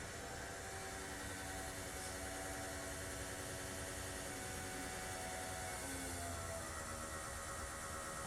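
An electric fuel pump runs on a RANS S21 light aircraft during its first engine start preparations, giving a steady, faint mechanical whine and hum with no pauses.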